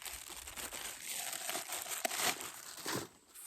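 Crinkly plastic packaging around a foldable Flex Bowl silicone bowl is pulled open, giving a continuous close rustle and crackle for a few seconds with a brief sharper tear near the middle.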